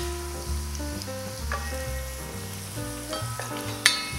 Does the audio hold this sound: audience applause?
no